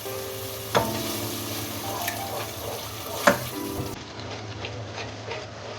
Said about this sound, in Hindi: उसको योगर्ट के साथ भून लें।